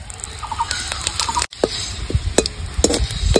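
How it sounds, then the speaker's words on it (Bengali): Bay leaves, dried red chillies and whole cumin sizzle in hot oil after fried rui fish comes out of the pan, a steady crackling hiss with sharp pops and scraping stirs, close and fairly loud, with no voices. "ফোড়নে দিয়ে দেবো দুটো তেজপাতা, দুটো শুকনো লঙ্কা,"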